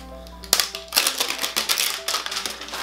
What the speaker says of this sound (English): I'm just gonna rip it off.